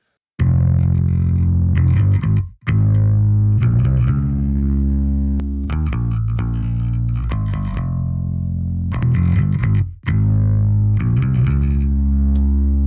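A bass guitar played through a Fender Rumble amp model with effects: sustained, distorted notes with chorus-like shimmer ring out in phrases, briefly cutting off twice before resuming, loud and alone without talking.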